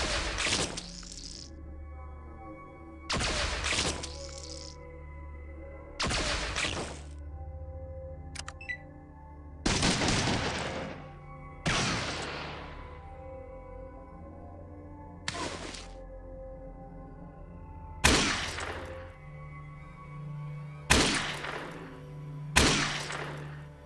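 Single gunshots ring out in Fallout 2 at a military base, about nine sharp loud cracks spaced a few seconds apart, each with a brief ringing tail, over a steady low ambient hum.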